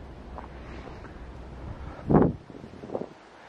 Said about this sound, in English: It's also very breezy, so you get the snow just blowing around in the wind.